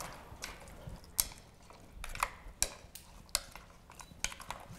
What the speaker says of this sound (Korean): 양념이 골고루 가게 이렇게 저어주시는 거예요